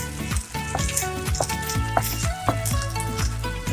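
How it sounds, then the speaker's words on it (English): Coconut fried rice fries in a pot over the fire, giving off a steady, dense sizzle that continues without a break, with occasional stirring scrapes underneath and no voices. "Let it fry for at least 2 minutes on the fire."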